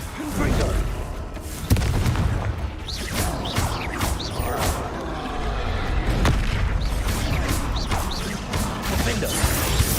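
Confringo blasting spells erupting in Hogwarts Legacy, with continuous rumbling explosions and crashes amid busy combat noise, while a voice talks over the action.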